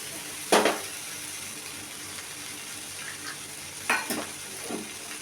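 Potatoes fry in a pan for aloo posto as poppy seed paste ground with green chillies goes in, a low sizzle under a few short bursts of scraping and stirring, no voices.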